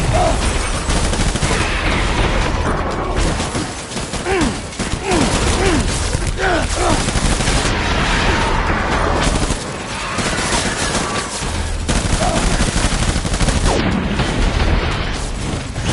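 Sustained gunfire in the video game Death Stranding, loud and dense for the full stretch with bursts and booms layered over a constant battle din, faint voices briefly under it.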